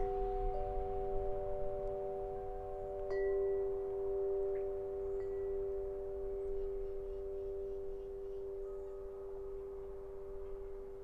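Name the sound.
wind chime ringing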